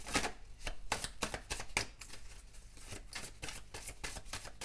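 Cards are shuffled for a card reading, giving a close, quiet series of crisp riffling and flicking bursts in an uneven rhythm, with no voices.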